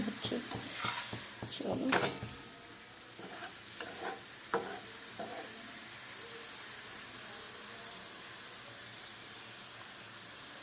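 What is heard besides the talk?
gas stove burner making a noise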